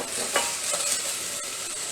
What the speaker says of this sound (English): Stir that up a little more